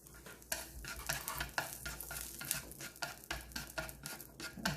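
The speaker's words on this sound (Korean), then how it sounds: "절여진 오이는 자, 이렇게 물기를 꼭 짜서 볶아주시면 되겠고요" Squeezed-dry salted cucumber is stir-fried in a frying pan with leftover oil, a soft sizzle running under repeated scraping strokes of a utensil against the pan, fairly quiet and close, with no voices.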